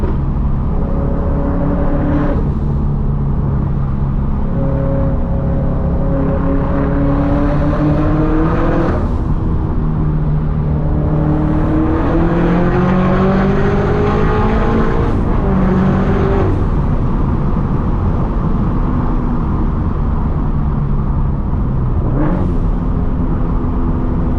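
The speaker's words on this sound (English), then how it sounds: "I'm just gonna let you guys enjoy some back road point of view driving here with Turbo Brz" A turbocharged Subaru BRZ pulls hard along winding back roads, its engine droning loud and close inside the cabin, rising and falling through repeated revving accelerations and gear changes.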